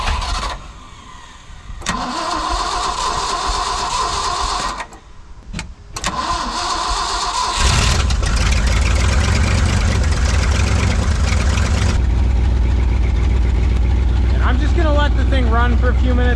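A cheap auction dump truck's diesel engine cranks in several bursts, then catches and settles into a loud, steady idle. Voices talk over it now and then.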